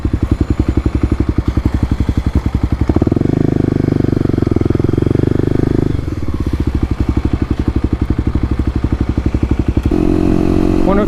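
A 2018 Kawasaki KLX250 single-cylinder motorcycle engine runs close up with a rapid, even thumping idle, rising twice into louder, smoother revving before settling back to its chugging beat.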